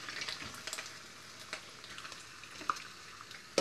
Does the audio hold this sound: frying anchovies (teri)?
yes